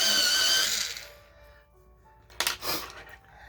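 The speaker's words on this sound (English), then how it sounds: "We'll just sharpen them up here real quick." An electric sharpener grinds colored pencils, a loud close whirring buzz at the start that fades over about a second, followed by quieter rustles and a couple of short bursts of handling noise.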